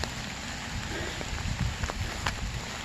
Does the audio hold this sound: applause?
no